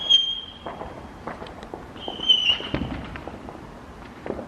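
Fireworks go off on Bonfire Night in London as scattered faint pops and crackles at a distance, with occasional whistling streaks, under a low background murmur.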